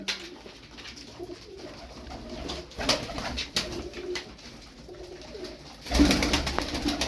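Fancy show pigeons coo in repeated soft, throaty calls at close range, with a louder burst of bird sound near the end and no speech.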